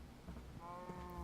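A sheep in Minecraft with the Better Than Wolves mod lets out a short, quiet bleat, a thin wavering tone that rises briefly over faint game background.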